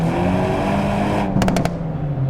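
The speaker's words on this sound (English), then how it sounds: "that was wheel spin in second, by the way." A tuned Hyundai Elantra N with over 300 wheel horsepower roars steadily under load in second gear as its wheels spin, a loud, dense engine drone with a brief burst of sharper ticking near the end.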